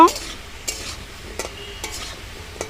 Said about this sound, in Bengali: তাহলে আমি এই আলু নাড়িয়ে নেব